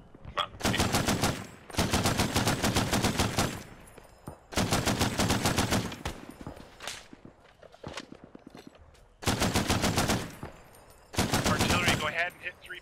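Machine gun fire in the video game Arma 3, with five long sustained automatic bursts, loud and close, separated by short gaps holding fainter scattered shots and movement sounds.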